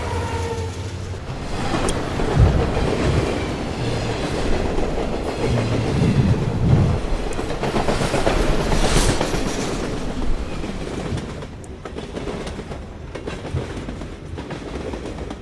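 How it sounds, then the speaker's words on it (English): A train clatters over a grade crossing, its loud, steady rumble dense with rhythmic clickety-clack wheel beats that carry on throughout and ease off slightly near the end. "And the train clattered over the crossing."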